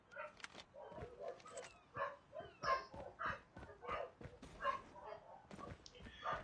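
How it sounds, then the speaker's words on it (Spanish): Several dogs bark and yip in a quick series of sharp, fairly faint bursts, with a few whimpers among them and no clear speech. "hoy los perros están encendidos hoy"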